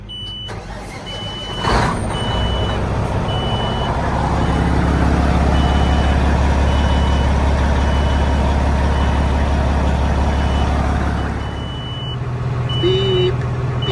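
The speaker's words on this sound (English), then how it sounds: "Beep, beep." Reversing beeps from a truck chirp at a steady interval over the loud, rumbling idle of a diesel engine, with a few more beeps toward the end as the engine noise drops.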